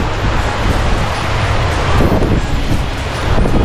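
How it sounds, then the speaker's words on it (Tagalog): Strong wind at a beach in Batangas buffets the microphone in a loud, continuous roar, with a faint wash of surf mixed underneath. "Lakas ng hangin, sarap."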